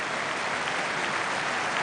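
Football crowd applauding Aston Villa captain Stilian Petrov during a League Cup semi-final against Bradford City, a broad, even wash of distant clapping from the stands.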